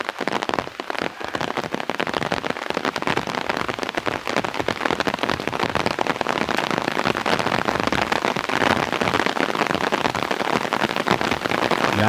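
Steady rain falls on a walk to a park in Chester, Pennsylvania, a dense close patter of drops on the ground and surfaces that continues evenly throughout with no talk.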